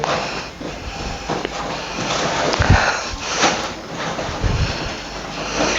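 Deep, noisy breaths drawn in and pushed out close to the microphone during a medical examination, a few heavier bursts among a steady rush of air, with no talking.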